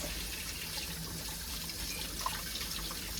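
Potatoes being rinsed under a running kitchen tap, a steady, even hiss of flowing water with no pauses.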